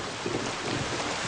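Rain falls in a steady, dense hiss that is close and continuous, with a faint low rumble underneath.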